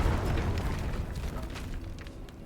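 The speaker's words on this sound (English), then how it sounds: "that explosion was a little bigger than I was expecting" A large explosion in the fantasy role-playing game Baldur's Gate 3, a deep loud rumbling blast that fills the low end and slowly fades over a couple of seconds.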